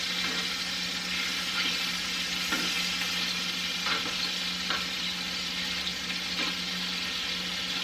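Chicken tenders frying in a pan, a steady close sizzle with a constant hum beneath and a few soft clinks as the pieces are moved around, with no talk.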